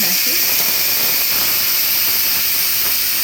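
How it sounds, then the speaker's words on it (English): Instant Pot pressure cooker on quick release, venting steam in a steady, loud, close hiss that runs unbroken throughout. "This is called a quick release. And it just lets the steam out because it is a pressure cooker."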